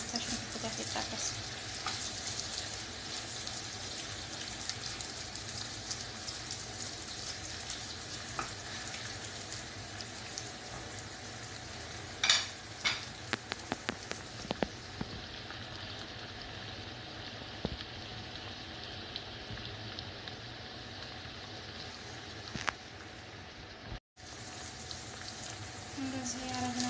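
Potatoes frying with onion paste in a pan give a steady, continuous sizzle that runs throughout, with occasional stirring clicks and scrapes. A few louder knocks come near the middle.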